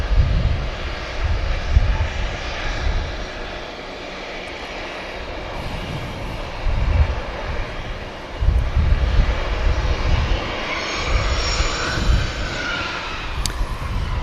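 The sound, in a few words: Logan Air aircraft taxiing at Manchester Airport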